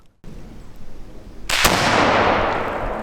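Muzzleloader rifle fired during a deer hunting drive, a single loud, booming blast midway that rolls into a long echoing decay, after a short quiet stretch of outdoor rustling.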